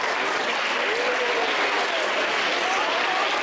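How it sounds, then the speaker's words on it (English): Steady applause from a school audience at a literary fiesta fills the whole stretch, dense and continuous clapping at an even level with no voices standing out. "Give a round of applause to yourself"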